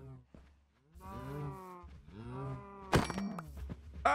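A cow in the Minecraft video game moos twice in drawn-out calls, close and fairly quiet, followed by a sharp thunk.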